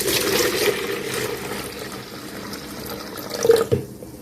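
Kombucha from its first fermentation pours into a jug, a steady wash of liquid splashing throughout with a brief louder gush near the end.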